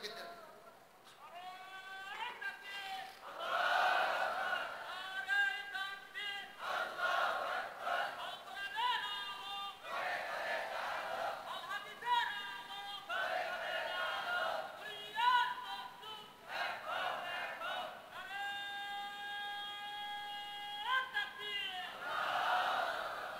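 A crowd at a Bangla waz religious gathering shouts the takbir, many voices rising together in loud, sustained chanted calls that repeat in waves with only brief dips between them.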